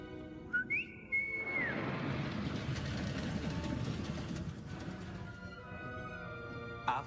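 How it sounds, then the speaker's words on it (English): A character in the video game Hogwarts Legacy gives a short, bright rising-and-falling whistle, heard alone near the start before a steady rumbling rail-like background takes over for several seconds. "How the hell do you whistle like that with nails that long?"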